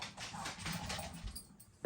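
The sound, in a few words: dog whimpering to be let outside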